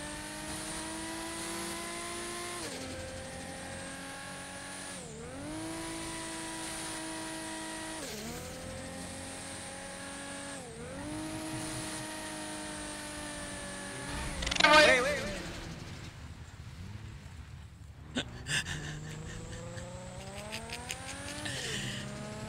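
Race cars speed through a race, engines rising and falling in repeated revving sweeps as they pass, followed by a sharp burst and further engine whine.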